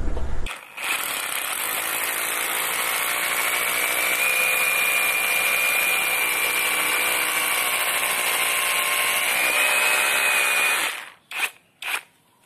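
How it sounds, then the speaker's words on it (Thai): An OSUKA OSRH-26 cordless brushless SDS rotary hammer drills a hole with a loud, steady whine for about ten seconds at close range, then stops and gives two short final bursts. "เดี๋ยวเจาะอีก1รูนะครับในแต่ละไซส์เนี่ยผมจะเจาะที่2รู"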